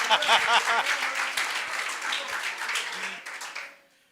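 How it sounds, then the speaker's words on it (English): A church audience at a faith conference claps and cheers, with raised voices and whoops over dense applause that gradually thins and fades out near the end. "You sound like a football crowd."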